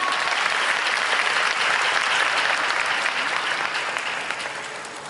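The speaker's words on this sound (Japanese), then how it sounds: "東京中日スポーツ賞を受賞されました宮井さんに大きな拍手をお送りください" Sustained applause from an audience at a race queen award ceremony at Tokyo Auto Salon, dense and even, then gradually tapering off toward the end.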